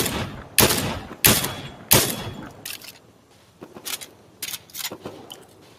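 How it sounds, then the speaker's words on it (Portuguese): Sharp gunshots from Fortnite, three loud cracks spaced about a second apart, then a scatter of quicker, fainter shots over background noise. "É um tiro."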